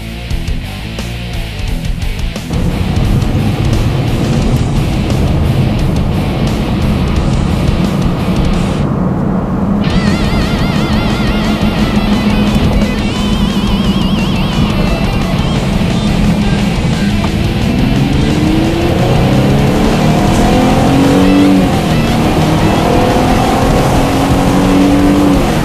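A car fitted with an aftermarket system is driven on the road, giving a loud, steady engine roar with rising revs and gear changes close to the microphone, and no talking.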